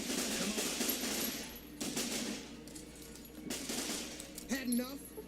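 Gunfire in the video game Fallout New Vegas during a fight with several enemies, with sharp repeated shots in short bursts, moderately loud, plus a metallic clink near the end and some game sound underneath.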